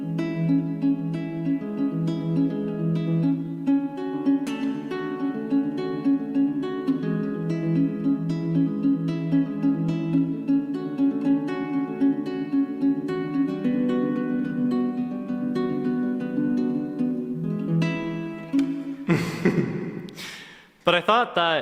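A ukulele plays a steady fingerpicked pattern of ringing, repeating notes for about nineteen seconds, an alternative version of the part. It ends with a short burst of handling noise.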